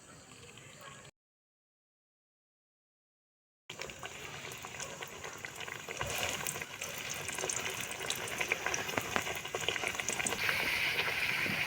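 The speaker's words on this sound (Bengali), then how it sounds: "এবার লুচিগুলো তেলে ভেজে নেব।" Spinach luchi deep-frying in hot oil, with a steady bubbling sizzle that builds louder over the clip. A brief silent gap comes near the start.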